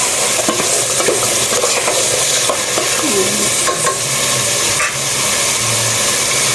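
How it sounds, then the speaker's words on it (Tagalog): Chicken being sautéed and stirred in a pan, a loud continuous sizzle under repeated scraping and clinking of the utensil against the pan, close by. "Gigisa na natin yung chicken. Hindi, haluin natin."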